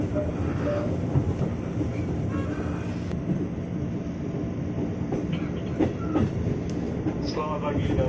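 A KRL commuter electric train pulling out from the Depok depot on the loop line, heard from inside as a steady rumble with rail noise and occasional clicks throughout.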